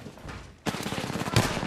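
Automatic gunfire in the Apex Legends battle royale, bursting in loud and close after a quieter lead-in and continuing as a sustained rattling volley, with one heavier report near the end.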